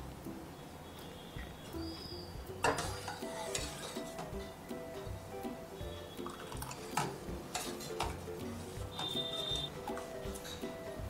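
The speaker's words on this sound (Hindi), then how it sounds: "अब हम इसमें थोड़ा थोड़ा करके विनेगर डालेंगे और मिक्स करते जाएंगे" A spoon stirs warm milk in a pot as white vinegar is added, making repeated clinks and scrapes over a faint background sizzle, close and moderately quiet.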